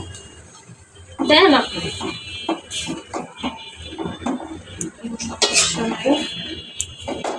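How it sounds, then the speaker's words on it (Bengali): A metal spoon scrapes and clinks in a cooking pot as taro stolons (lati) are stirred together with prawns, with scattered clanks heard beneath steady nearby talk. "এই তো লতি দিয়ে দিচ্ছে, সুন্দর করে লতিটা দিয়ে দিল। নাড়া দাও।"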